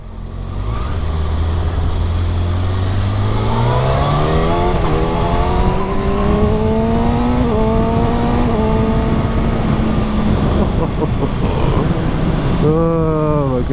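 A 2019 Kawasaki Ninja ZX6R supersport motorcycle accelerates hard on a ride, its engine climbing loudly through the revs with a quick shift and rising again near the end, close and dominant over wind noise.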